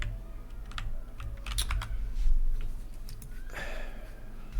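Computer keyboard typing during a Linux work session, a scattered run of light key clicks over a steady low hum, fairly close and moderately quiet, with no one talking.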